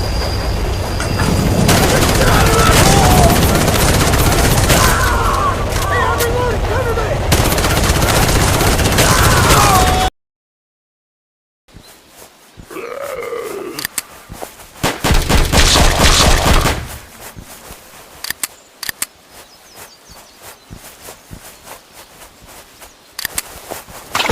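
Rapid automatic gunfire bursts from the offline Android shooter Battle Ops, loud and dense with game effects, broken by a brief silence and then sparser shots and sweeping effects.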